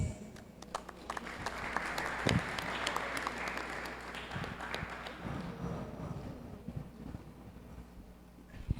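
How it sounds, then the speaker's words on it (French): An audience at a school debate competition, a college quarterfinal, applauds after a speaker, a burst of clapping that swells and then thins out into scattered claps near the end. "On applaudit encore une fois la représentante du LCC pour ces informations"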